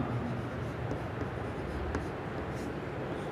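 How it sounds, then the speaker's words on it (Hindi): Chalk or marker scratching across a board while a Hindi maths teacher starts writing out an equation, a steady close scraping texture with no voice over it. "तो हम सबसे पहले शुरू करने के लिए लिखते हैं"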